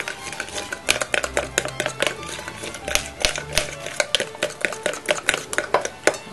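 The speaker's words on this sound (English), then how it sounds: "We're going to take couple tablespoons of Parmesan cheese. Mix that together." A utensil beats two eggs with Parmesan cheese in a bowl, giving rapid, close, rhythmic clicking and clattering against the sides with no talking.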